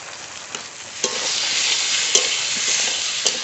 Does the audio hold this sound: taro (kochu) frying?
yes